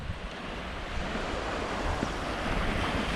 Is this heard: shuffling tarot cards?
no